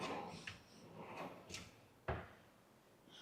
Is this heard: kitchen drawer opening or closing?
yes